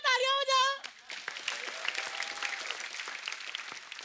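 Studio audience applause on a TV comedy show, dense steady clapping that rises and carries on after a brief spoken call from the host.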